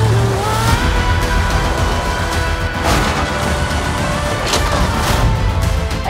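A car driven hard, with a steady loud engine roar, road noise and scattered impacts, heard without any talk.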